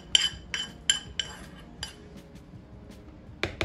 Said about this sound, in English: I'm mixing this very well